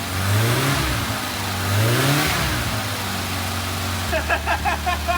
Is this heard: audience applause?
no